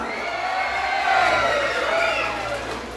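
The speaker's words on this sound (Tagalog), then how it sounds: "Malakas na sigaw at palakpak!" Audience at a barangay night contest cheering and shouting loudly for about three seconds, a dense crowd roar with no talk over it.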